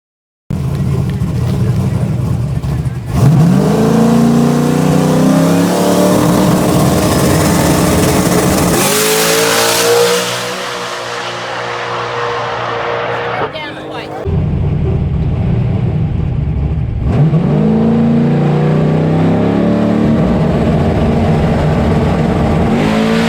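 A drag race car engine at a no-time racing event revs hard in several long climbing bursts, loud and close, with a lower idling stretch in the middle before the pulls resume.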